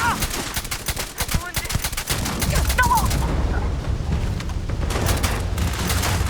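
Dense gunfire from a Starfield combat fight, rapid overlapping shots crackling in bursts and settling into a steady roar of sustained fire.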